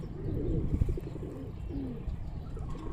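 A pigeon gives soft, low, repeated coos close by, the throaty murmurs running steadily with faint rustling underneath.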